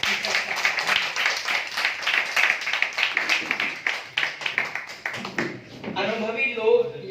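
An audience claps in a sustained burst of dense, close applause, with talking breaking in toward the end.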